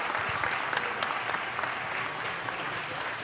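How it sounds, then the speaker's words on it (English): Sustained applause from the audience at a city council meeting, a thick, continuous crackle of many hands clapping at moderate volume with a few sharper claps standing out, and no speech on top. "Let's give him one more round of applause"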